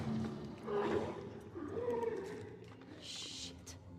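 Growls and guttural roars from Shambler infected creatures in The Last of Us Part II, rising and falling over several seconds at moderate distance, with faint buzzing flies and broken-glass ambience and a brief hiss near the end.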